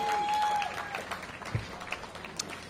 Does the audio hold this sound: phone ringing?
no